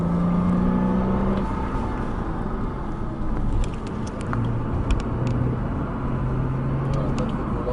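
A Porsche Cayman S accelerates on a race track, with a steady, loud engine drone and rising tones heard from close up. Wind and road noise run beneath it, and there is no talk.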